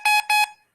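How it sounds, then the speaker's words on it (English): A beeping ball for blind baseball gives two bright, loud electronic beeps in quick succession, each about a sixth of a second long, with a short ringing tail and no voices. "the batters do use the sound of the beeping balls to do the batting"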